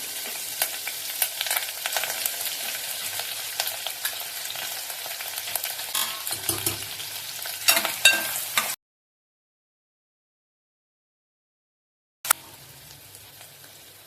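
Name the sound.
curry leaves and onion sizzling in hot oil tempering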